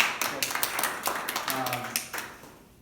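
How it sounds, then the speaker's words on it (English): A small group at a swing dance class claps for the teacher, a brief scattered round of applause that thins out and fades over a couple of seconds, with people talking in the room. "Give a round of applause"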